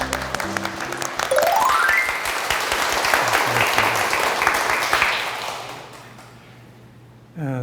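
An audience bursts into sustained applause welcoming a lecturer to a local culture talk, a dense, loud wash of clapping that holds steady for several seconds before fading out.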